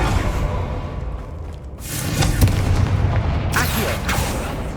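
Confringo spell blasts in the Hogwarts Legacy video game, booming fiery impacts that land in a couple of heavy bursts with whooshing tails over a dense game soundscape.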